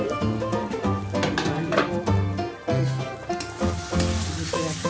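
Potatoes and cauliflower fry and sizzle in a pan, a steady crackle running under loud tonal music that dominates throughout.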